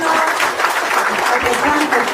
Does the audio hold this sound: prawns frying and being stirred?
no